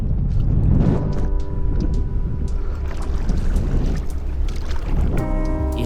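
Kayak paddle strokes pulling against a strong river current, with steady water wash and gusting wind noise over the microphone throughout, the strokes blending into the continuous rush.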